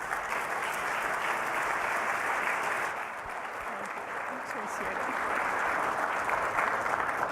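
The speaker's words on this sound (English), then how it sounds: "Would you please give her a round of applause?" Sustained audience applause at an evening clean energy event, a dense steady wash of many hands clapping that stays loud throughout with no pause.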